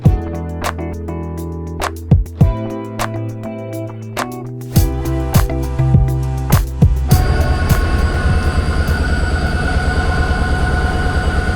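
An EMD 201 class diesel locomotive of 3,200 horsepower hauls the Belfast Enterprise passenger train past, close and loud. Rhythmic wheel clatter over rail joints speeds into a dense, continuous roll beneath a heavy engine drone.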